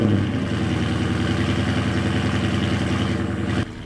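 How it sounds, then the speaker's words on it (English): A 6.4L Hemi V8 fitted with stainless long tube headers and a stock exhaust rumbles loudly at idle just after start-up, a close, even burbling throb that cuts off abruptly near the end. "Start up with the headers installed."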